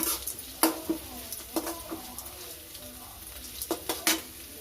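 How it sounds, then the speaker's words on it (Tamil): Onions sauté in a pan for samba rava upma, with a faint low sizzle beneath frequent sharp clinks and scrapes of a spoon stirring against the metal, close by and fairly quiet. "வெங்காயம் நல்லா பொன்னிறமாக வறுபடட்டும்."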